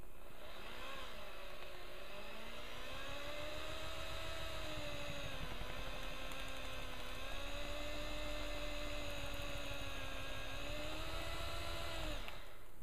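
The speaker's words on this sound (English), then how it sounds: "this is now going to get drilled out all the way using the spade bit" A spade bit drills through wood during a deck build, giving a steady whirring drill motor drone with slowly shifting pitch that runs continuously for about twelve seconds at low level before stopping.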